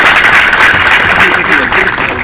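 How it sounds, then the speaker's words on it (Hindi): An audience at a community gathering honouring a public figure breaks into loud, dense applause, a continuous close wash of clapping for a couple of seconds. "मैं चाहूंगा एक बार जोरदार तालियों से अभिनंदन हो।"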